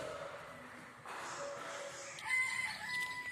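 Pet chickens in a backyard: a rooster gives a short, faint crow from a distance, with light clucking in a quiet setting.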